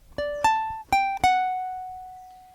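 Ukulele riff picked high up the neck, four bright plucked notes with ringing sustain, the last one left to ring out alone.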